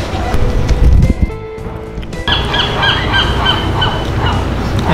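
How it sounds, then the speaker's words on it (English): Several Canada geese honk loudly and close by at a harbor, a burst of repeated nasal calls over a windy, noisy background. "I saw some Canadian geese fly by."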